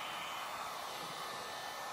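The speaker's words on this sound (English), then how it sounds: "The heat gun like this does a much quicker job of it" A 1,000-degree heat gun blows hot air in a steady, close hiss with no break and no voices.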